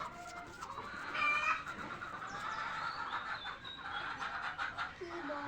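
Red and golden country hens cluck steadily at close range in a busy, noisy yard, their calls overlapping for several seconds.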